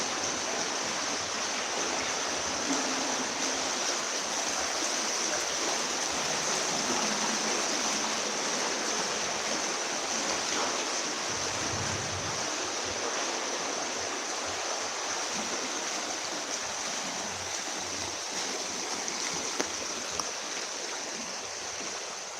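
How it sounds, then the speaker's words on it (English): Water of a stream flows steadily in a continuous broadband rush, close and fairly loud, passing along a walking route near a daycare center, with no talk over it. "I hope you can hear the water."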